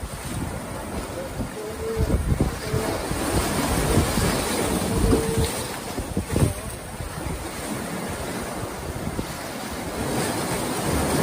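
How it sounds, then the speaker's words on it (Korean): Ocean waves break steadily on the shore at Jeongdongjin, a continuous broadband surf wash with wind noise buffeting the microphone and swells rising and falling, no voices. "파도 소리 듣기."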